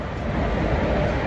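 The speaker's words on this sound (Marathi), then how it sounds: "तर हे इंजिन आता कनेक्ट करण्यासाठी पुढे नेलं गेलं आहे." An electric locomotive rolls forward at Kolhapur station to couple onto the Kolhapur–Solapur train, giving a steady, dense low rumble of rail noise that holds at an even level with no distinct clanks or horn.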